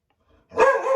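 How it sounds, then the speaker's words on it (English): A dog gives a single loud, close bark that cuts sharply out of near silence halfway through and rings on briefly. "I guess my dog wants to bark and end this now"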